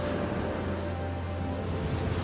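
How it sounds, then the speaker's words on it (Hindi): Steady cartoon rain falling on a drought-stricken village, a continuous even hiss with a low rumbling undertone throughout, no voices. "सबूत ये बारिश है"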